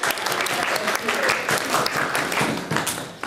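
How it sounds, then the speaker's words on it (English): Studio audience on a live TV comedy show bursts into sustained applause, dense clapping holding steady for the whole stretch with a few louder peaks, no talk over it. "We should applause for the first correct answer"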